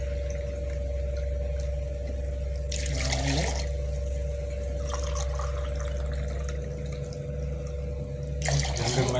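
Water pours by the tumblerful into a pot of rice for coriander-mint rice. There are two short splashing bursts, a few seconds apart, over a constant low kitchen hum.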